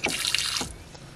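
Rainwater from an IBC tote flows into a homemade chicken watering system after a lever is pulled, a steady splashing, tap-like rush loudest in the first half before easing off to a quieter trickle.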